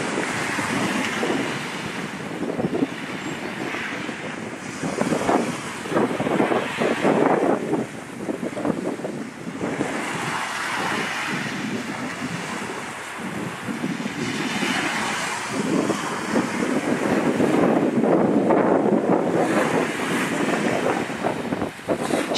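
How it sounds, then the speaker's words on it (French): Sea waves roll onto a beach beside a campsite, a continuous surging wash that swells and fades in slow cycles, with strong wind buffeting the microphone throughout. "j'entends vachement bien le chant des vagues"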